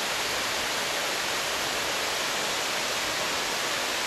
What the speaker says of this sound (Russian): потом эта же речка превращается в ореховский водопад